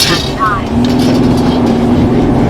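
Ford Everest swerving sharply to avoid an obstacle, loud steady road and engine roar inside the cabin with a brief sharp squeal early on; a voice speaks over it.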